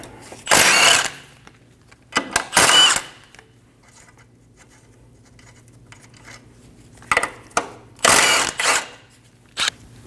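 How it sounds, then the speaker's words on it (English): A 17mm socket ratchet working off the three lower ball joint nuts on a 2012-2022 Volkswagen Passat front axle job, heard as loud close bursts of rapid clicking with quiet gaps between them. "Using a 17mm socket, we're going to remove the 3 nuts for our lower ball joint"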